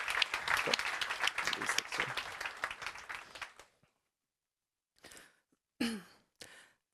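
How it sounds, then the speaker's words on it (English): Audience applause at the 2024 NATO Youth Summit in Stockholm: a loud burst of clapping that thins and fades out after a few seconds, followed by quiet with a couple of short spoken words. "Another round of applause, please"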